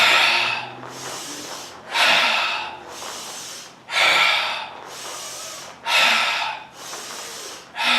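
Loud rhythmic breathing during Hindu squats, sharp forceful inhales alternating with longer exhales roughly every two seconds, close and alone without talk.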